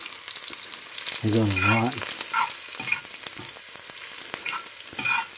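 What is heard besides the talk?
fiddleheads sautéing in a pan inside a woodstove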